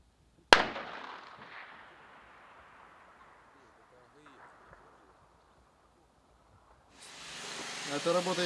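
A single sharp, loud crack of sniper rifle fire at frontline positions near Pesky, trailing off in a long echoing decay, followed after several seconds of quiet by a rising wash of broadband noise.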